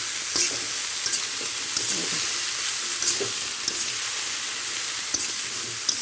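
Grass carp pieces coated with turmeric, salt and chili powder fry in a pan, giving a steady close sizzle with scattered small spatters and light scraping stir sounds throughout.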